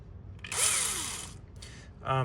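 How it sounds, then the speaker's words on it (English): A 1/4 inch masonry drill bores into stucco with a loud, steady high whine lasting about a second, then a brief second burst near the end as the bit re-engages. "we're gonna drill a hole, and we've got because this is stucco, we have a mason drill here"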